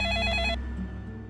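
A telephone rings while a call is placed to a police station, a loud electronic ring tone that cuts off partway, followed by a lingering low hum.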